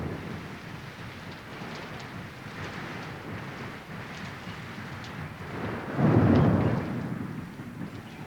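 Heavy rain pours steadily in a thunderstorm during the wet season of 1988 and 1989, then a loud, close rumble of thunder swells near the end and slowly fades, with no voices.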